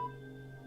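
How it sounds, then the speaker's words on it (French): A mobile phone used as a timer sounds its nearly flat battery warning: a brief, faint, steady electronic tone. "c'est le portable qui me sert de chrono qui a quasiment plus de batterie."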